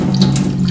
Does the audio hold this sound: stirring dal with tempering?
no